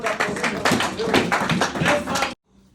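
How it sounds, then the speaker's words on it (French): Congregation applauding for God during a church service, a dense burst of hand claps with rhythmic pulses that stops abruptly after about two seconds, followed by near silence. "Si c'est d'accord, applaudissons pour notre Dieu."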